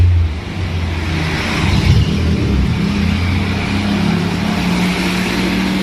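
A lowered motorcycle's engine runs close by, a steady low rumble that swells slightly and settles again with no one talking.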